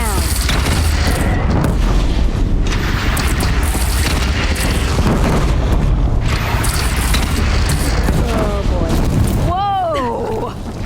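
A bridge is shot down and collapses in Horizon Zero Dawn, a loud, continuous booming, crashing rumble with debris impacts throughout, while voices talk over it and a shouted exclamation rises near the end.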